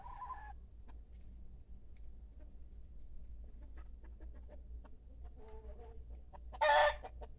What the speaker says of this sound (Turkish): Bu da tavuk kimi gıdaklıyor